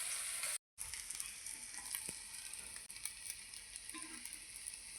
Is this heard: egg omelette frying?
yes